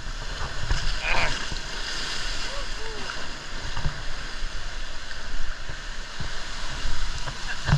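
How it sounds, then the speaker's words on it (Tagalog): Strong ocean waves surge and wash at a mountainside beach near a cave in Calayo, Nasugbu, Batangas, a loud continuous rushing roar with swelling crashes, while people talk nearby. "Lakas ang alon."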